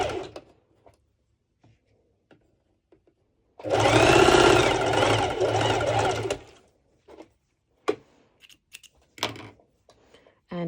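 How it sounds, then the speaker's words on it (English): A sewing machine set to its longest stitch length runs a straight seam on fabric, a steady whirring burst of about three seconds between quiet pauses, with faint handling clicks around it. "I'm just doing a straight stitch"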